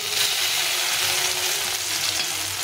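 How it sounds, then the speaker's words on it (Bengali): Crushed ginger fries in hot oil, giving a steady, dense sizzle with faint stirring, close and continuous throughout with no voices. "আদাটাকে একটু ভাজা ভাজা করে নিতে হবে।"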